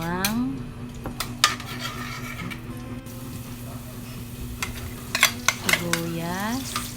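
Garlic sizzles steadily in hot cooking oil in a pan for a Filipino sweet potato leaves with sardines dish, with occasional utensil scrapes and clinks over the frying and a faint voice in the background.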